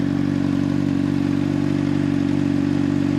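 A motorcycle engine fitted with a Two Brothers exhaust runs at a loud, steady idle, a continuous low throb with no talking over it.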